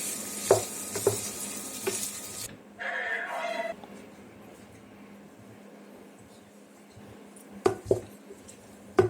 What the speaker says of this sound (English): We will fry everything together.